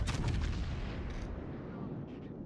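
Heavy naval guns of the Yamato battleship fire in the World of Warships game, a deep booming salvo at the start rolling into a long low rumble, with smaller distant thuds following.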